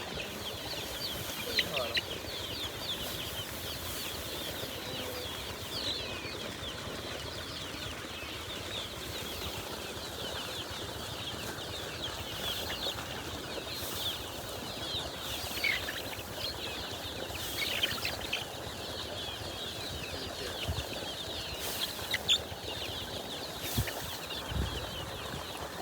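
Chickens on a farm give soft clucks and occasional brief wing flaps, steady and fairly faint throughout, with light background noise and little talk.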